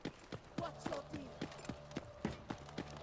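Footsteps in the video game Delta Force, a steady run of quick thudding steps at close range, with a person talking over them.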